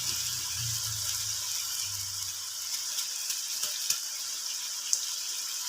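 Chicken sautéing in hot oil in a pan with cauliflower, a steady broadband sizzle that runs throughout, marked by a few sharp crackles and pops and a low rumble early on.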